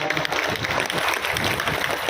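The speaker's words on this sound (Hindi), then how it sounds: "गुजरात के लिए भी बच्चे ताली बजा दीजिए" A hall full of children at a religious gathering claps together, a steady, fairly loud patter of many small hands that keeps going without a break.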